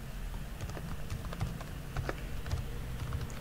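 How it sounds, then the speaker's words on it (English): Quick, light keystrokes tap out a password on a computer keyboard in an uneven rapid run, close but soft, over a faint steady room hum. "Type the password and hit enter."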